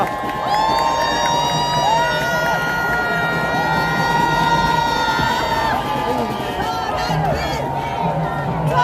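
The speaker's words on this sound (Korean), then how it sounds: "여러분들의 함성 소리가 대한민국 여기에 퍼지고" A large outdoor political rally crowd in Yeouido, Seoul, cheers and shouts continuously, with whoops and raised voices rising over a dense, loud roar of many people.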